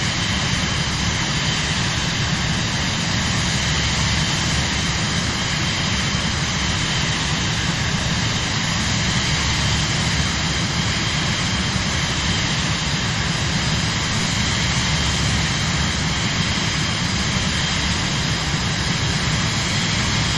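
Airplane cruising in Microsoft Flight Simulator, a loud, steady engine drone with an unbroken hum that holds level and alone for the whole stretch.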